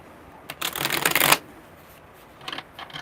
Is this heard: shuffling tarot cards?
yes